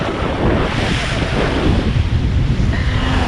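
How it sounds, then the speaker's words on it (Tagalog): Strong waves slap and churn on Laguna Lake during traditional tilapia fishing from a boat, with loud steady wind buffeting the microphone for the whole stretch, no talking. "Uy, lakas ng alon."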